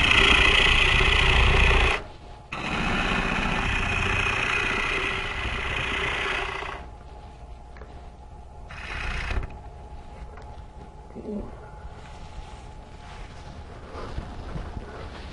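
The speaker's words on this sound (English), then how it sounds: "So I'll use a smaller gouge here." A smaller gouge roughs a green wood bowl on a lathe, first as a loud broadband hiss of cutting over the motor hum, then breaking off into a quieter running lathe with brief intermittent cuts.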